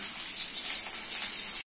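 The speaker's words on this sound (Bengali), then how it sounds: "গরম হয়ে গেছে, দিচ্ছি পেঁয়াজ কুচি" Chopped onion hitting hot soybean oil, a loud, dense, bright hiss and sizzle that holds steady and then cuts off abruptly.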